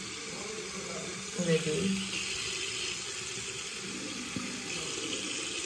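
Cold tap water runs steadily over hands under a sink faucet, a soft continuous splash and hiss while someone speaks briefly over it.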